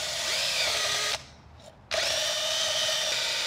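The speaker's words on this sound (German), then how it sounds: "setzen das auf mit einem Akkuschrauber" A cordless drill fitted with a wheel hub cleaning tool whines at high speed on an Audi A6 rear hub, cuts out for under a second, then starts up again and keeps running, close and steady.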